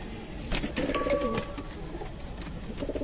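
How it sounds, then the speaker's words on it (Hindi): A pigeon coos softly at a home pigeon setup in Bihar, India, a short low murmuring call heard close by over light background noise. "और इस कबूतर ने अपने बच्चे निकाल लिए हैं"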